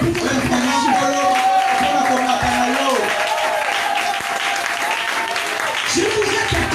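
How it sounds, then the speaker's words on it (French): Church congregation at a Sunday worship service applauding loudly and continuously, with cheering voices and a preacher talking over the sustained clapping. "Acclamez fortement le Seigneur pour toute la promotion."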